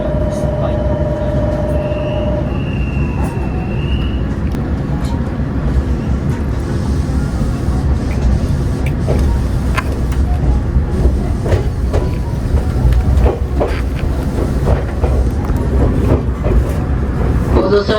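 A Nagano-bound train, the Yukemuri Nonbiri, rumbles steadily while moving, with a low continuous roar, faint rail clicks and a brief tone near the start, as an onboard announcement voice speaks over it.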